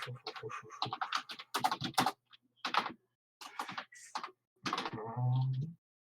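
Close computer keyboard typing comes in quick bursts of clicks separated by short pauses, ending with a brief voiced sound.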